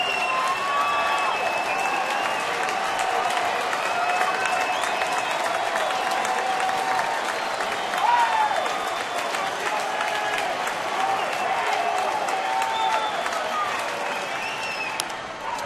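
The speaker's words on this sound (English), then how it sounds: "Crowd's starting to come alive now in a 2-run game" A baseball stadium crowd at a Tigers game applauds and cheers in a continuous dense wash of clapping and voices, with a brief swell partway through.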